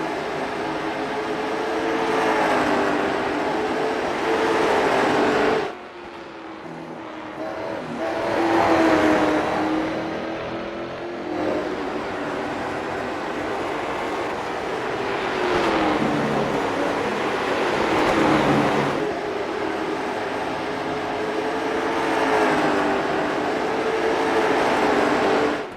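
Race cars circle Martinsville Speedway in a racing video game, a continuous layered engine drone rising and falling with each straightaway and corner over about twenty-five seconds, with no talk over it.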